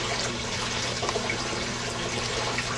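Water runs steadily into a seed germination tray, filling it with warm water in a continuous, even rush that stays close and fairly loud from start to finish.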